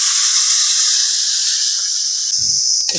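Water poured into spices frying for a Bengali fish curry made with lemon leaves sets off a loud, continuous, close sizzling hiss that holds steady throughout, with a brief low clatter near the end.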